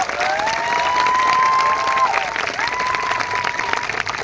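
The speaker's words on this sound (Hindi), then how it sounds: "एक जोरदार तालियां होना चाहिए" Steady, loud audience applause with cheering at a company event, broadband clapping filling the whole clip while a tonal whistle or feedback-like sound drifts over it.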